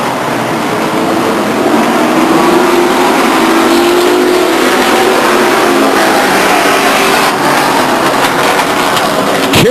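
Race cars roar past on the oval at Stockton 99 Speedway, a loud, continuous engine drone with a pitch that rises and falls as the cars run down the backstretch, no voices over it.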